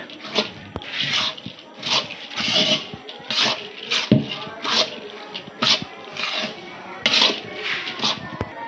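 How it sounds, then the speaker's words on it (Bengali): Soaked lentils being mixed by hand with spices for a lentil dish with Malabar spinach, giving repeated soft wet squelching and scraping strokes in a steady rhythm, close and moderately loud. "এখন ডালটা দিয়ে দিমু। ডালটা সুন্দরে মিশিয়ে নেব এই মশলার সাথে।"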